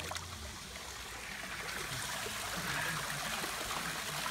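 Sulfur hot spring water runs steadily at an open-air Japanese onsen beside the Shirakawa river, a continuous close rushing trickle that holds at an even level and has no talk over it.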